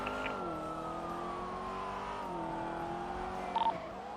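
Engine of a Revolter sports car in GTA, a steady revving drone that shifts pitch slightly as the car moves through city streets, with a brief blip near the end.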